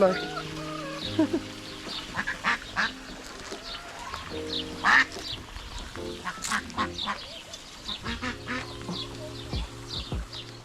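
Several ducks quack in short bursts, close by, while people talk quietly nearby.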